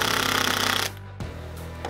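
A drill with a depth-stop bit drives a screw into composite decking in one loud, rattling burst that cuts off sharply, followed by quieter handling noise.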